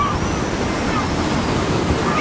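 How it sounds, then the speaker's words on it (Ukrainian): Ocean waves around a rocking boat, a continuous broad wash of surf and wind noise, steady and fairly loud throughout, with no distinct voices. "Ось тут хвилі, човник гойдається."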